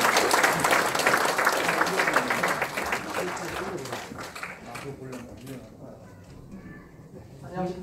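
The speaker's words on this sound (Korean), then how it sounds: "박수로 맞아주시기 바랍니다." An audience at a lecture applauds loudly to welcome a speaker, the clapping strongest at the start and gradually thinning out over several seconds.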